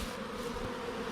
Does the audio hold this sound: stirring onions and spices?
no